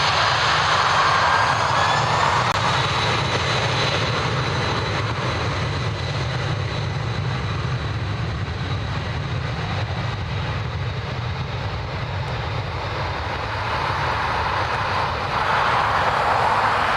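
An airliner takes off and climbs out from Dublin Airport after a runway change, producing a loud, sustained engine roar that holds steady throughout, with no speech.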